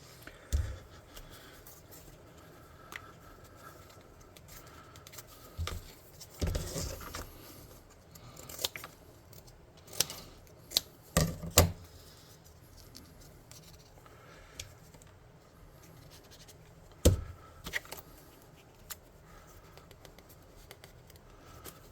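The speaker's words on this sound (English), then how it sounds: "I'm just cutting these shapes like that because I like them." Scissors snip shapes from fabric in scattered bursts, sharp close clicks and short cuts separated by quiet pauses, some quick clusters of snips.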